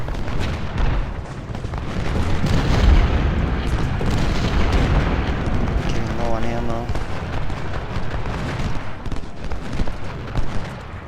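Massed artillery and musket fire from a Civil War battle at Bull Run in the strategy game Ultimate General: Civil War, a dense, continuous roar of booms and crackling volleys under occasional talk.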